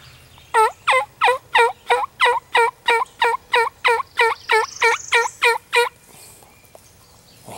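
A wild turkey calling during a spring hunt, heard as a rapid, evenly spaced series of about fifteen loud, close clucks, then a pause with faint ambient outdoor noise.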